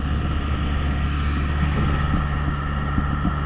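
A Ford 6610 tractor drives through water while spreading manure, its engine a steady loud drone under rushing wind noise, with no pauses or talk.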